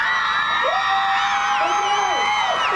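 Concert crowd in Dubbo cheering and whooping loudly up close, with rising and falling shrieks and yells layered over a dense roar of voices.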